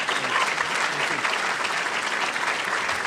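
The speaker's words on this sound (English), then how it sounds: "How about a big round of applause?" An audience at a talk by the Chicago Public Schools CEO in 2010 breaks into dense, sustained clapping that stays loud and even throughout, filling the room with no pauses.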